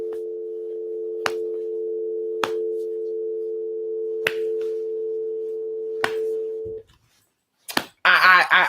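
A telephone line gives a steady, unbroken tone for several seconds, interrupted by sharp snapping clicks, then cuts out before a voice speaks close by.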